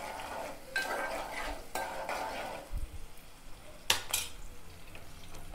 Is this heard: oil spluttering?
yes